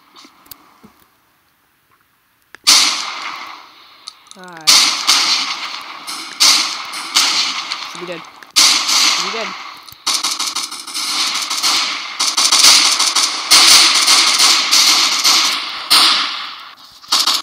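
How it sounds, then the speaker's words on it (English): Rapid bursts of gunfire from the online shooter Combat Reloaded, loud and close, with dense sharp crackling shots running almost continuously after a brief quiet start. "with this gun, it's probably just better to fire from the hip"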